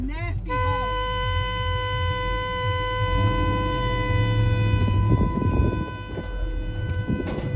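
A car horn sounds in sustained, repeated blasts during a long roadside confrontation, loud and steady throughout, with a voice talking over it.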